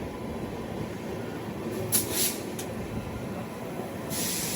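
The Janshatabdi Express running between Chennai Central and Vijayawada, a steady rumbling rail roar heard from onboard with brief hissing bursts, moderately loud and continuous.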